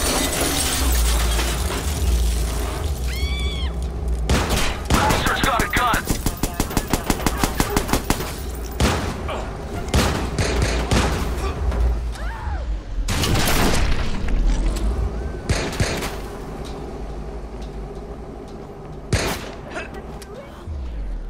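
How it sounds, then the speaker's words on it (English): Gunfire in the video game Watch_Dogs during a convoy assault: loud bursts of automatic fire, rapid rattling volleys and booming shots with shattering impacts, repeating across the scene amid game voices. "Help! He's firing a gun!"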